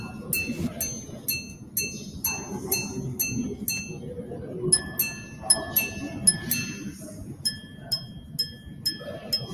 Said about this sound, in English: Since it's a chiming watch, I thought it's best to listen first.